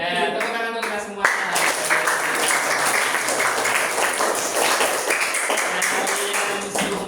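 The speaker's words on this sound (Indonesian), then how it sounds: "Nah, tepuk tangan untuk kita semua." Schoolchildren in a classroom break into loud, brisk hand clapping after agreeing on class rules, a dense burst of claps sustained for several seconds with voices mixed in.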